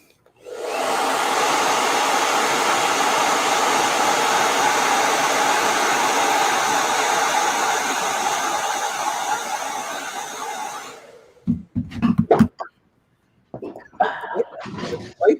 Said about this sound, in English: Hit that with a blow dryer.